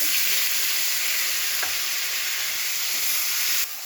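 Dried chillies, bay leaf, black cumin and cardamom fry in hot oil for an egg curry, making a steady, close, loud sizzle with a faint stirring knock partway through before the hiss drops slightly at the end.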